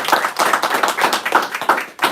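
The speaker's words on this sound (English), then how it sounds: "Let me give everybody a round of applause for coming out today." A small crowd claps together at a business ribbon cutting for Advanta Genetics, steady close handclaps forming brief applause with no talk over it.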